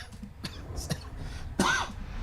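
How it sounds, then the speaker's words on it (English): A person coughs several times in short, separate bursts, close and moderately quiet, with a louder, harsher cough near the end. "I'm coughing."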